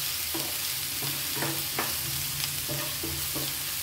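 Onion with ginger-garlic paste and tomato frying in a pan for jackfruit bhorta, a steady broadband sizzle with light stirring clicks and scrapes throughout, close and continuous, no talking.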